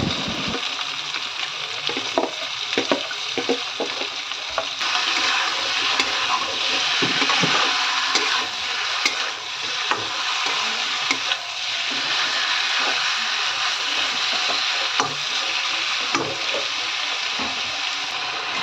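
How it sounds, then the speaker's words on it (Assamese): Marinated duck meat frying over a medium flame for an Assamese duck curry, a loud continuous hissing sizzle close by with occasional stirring scrapes, steady throughout and no voices. "মাংসখিনি এড কৰি পেলাই আমি মিডিয়াম ফ্লেমত ভালদৰে অলপ দেৰি ভাজি ল'ম"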